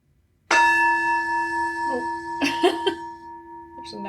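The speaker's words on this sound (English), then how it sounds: "Here, I want to ring a bell." A bell is struck once and rings out with a sustained, shimmering tone, followed by a few softer clangs as it keeps sounding.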